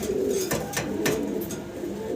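Soft cooing of young fancy pigeons, including Andalusian-coloured birds, several low throaty coos close by, with light rustles and brief flutters between them.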